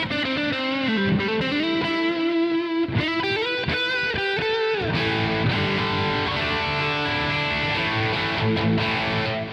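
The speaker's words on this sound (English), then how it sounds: "It's a very good crunch tone for strats and that kind of stuff." Crunchy overdriven electric guitar through a ToneX Plug, using a Soldano-style amp tone suited to a Strat, playing riffs and chords loudly with some delay and reverb trailing the notes.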